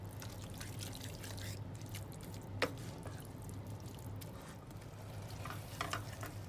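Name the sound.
sautéing spices on low heat for oats soup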